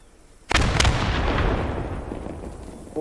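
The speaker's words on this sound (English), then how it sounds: "Grenade out." Grenade explosion in the World War II shooter game Post Scriptum, one sudden loud blast with a heavy booming body and a long rumbling decay lasting several seconds, ending with a brief trailing sound.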